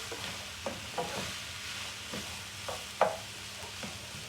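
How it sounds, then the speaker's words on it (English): Five medium onions sizzle in hot oil for a chicken masala while a spoon scrapes and stirs them through the pan in irregular clanks, with a steady frying hiss underneath. "Get the onions coated in the oil."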